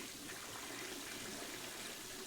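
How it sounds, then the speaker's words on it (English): A toilet flushing inside the Friday the 13th video game's virtual cabin, a steady, even rush of running water that holds at a constant level for the whole stretch, quiet and close with no voices over it. "You can flush the toilet."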